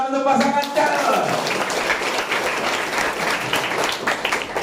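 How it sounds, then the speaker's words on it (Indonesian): A school audience at a student council candidate debate claps for the candidate pair, a loud dense burst of applause following a brief voice at the start and continuing steadily. "tepuk tangan untuk pasangan calon"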